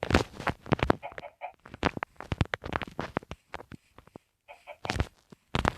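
Minecraft chickens cluck in quick, choppy bursts close by, with brief pauses between the calls.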